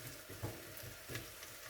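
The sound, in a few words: rice frying in a pan for Spanish rice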